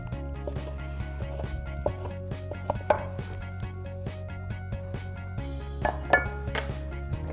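A knife slicing rested tri-tip beef thin on a cutting board, with intermittent soft chopping taps and occasional light clinks of utensils, no talking over the cutting.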